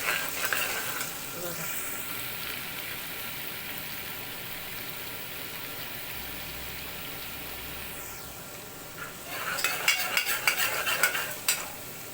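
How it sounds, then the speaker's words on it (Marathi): Spicy green lavangi chillies sauté in hot oil with a steady, close sizzle throughout, growing into louder crackling and spitting toward the end; no one speaks. "थोडस मिरची तेलावर परतून घ्यायची आहे"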